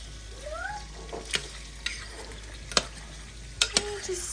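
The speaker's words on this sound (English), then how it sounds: "Give it a quick stir." Rendering beef fat into tallow in a pot gets a quick stir, with a few sharp spoon knocks against the pot over a low simmering bubble, while a cat meows briefly nearby.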